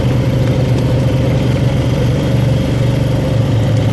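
A motorbike engine runs steadily during a ride on a snowy trail, with a loud, continuous low drone and an even rumble throughout and no voices.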